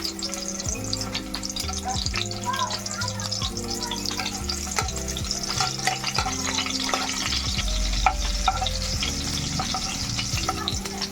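Chopped onion sizzles and fries in hot oil in a pan, with a steady crackle broken by occasional stirring scrapes and clatters throughout, and no talking.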